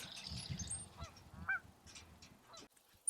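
Waterfowl honk and call at Modoc wildlife refuge, with a few distinct squawks rising over faint ambient noise.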